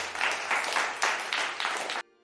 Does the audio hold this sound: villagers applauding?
yes